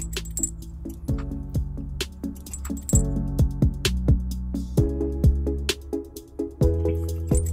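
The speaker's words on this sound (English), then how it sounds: "I'm gonna thread the carriage bolt, the one with the small plate going to the most rear. Thread that onto our bolt buddy." A carriage bolt is threaded onto a bolt buddy during a 2018 Subaru Outback trailer hitch installation, giving close, sharp metallic clinks and rattles that come in irregular bursts, ringing briefly against the steel.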